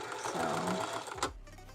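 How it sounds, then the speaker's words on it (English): A heavier-duty sewing machine stitching at a quick, steady rhythmic whir, fairly quiet and close, stopping abruptly with a brief clack near the end. "But this machine could sew it because it's a bit heavier duty."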